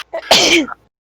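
A single sharp sneeze rings out close and loud, a short intake followed by a burst, then silence.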